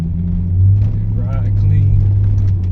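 Ford Crown Victoria LX, 24 years old, fitted with Flowmaster mufflers, giving a steady deep exhaust rumble from inside the car while driving, with road noise underneath and a person talking over it.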